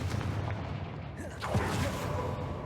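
Booming blasts erupt as the Confringo explosive spell is cast in the video game Hogwarts Legacy, with a loud burst cutting through a dense, rumbling game soundscape.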